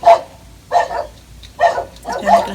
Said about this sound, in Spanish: Esperando que los perros dejen de ladrar.